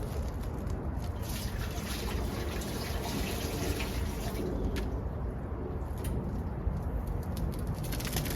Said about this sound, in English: We're gonna start by pouring 64 ounces of water into the mixer.